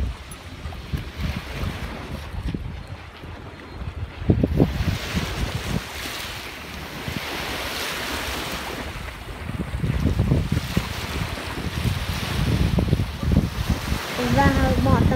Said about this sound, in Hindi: मौसम बड़ा अच्छा है, हवा भी चल रही है।